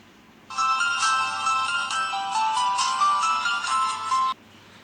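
An Oteeto KS2 smartwatch powering on: a clear, bright electronic startup melody lasts about four seconds, close and loud over faint background hiss, then stops abruptly.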